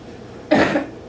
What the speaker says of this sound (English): Been having a cough lately.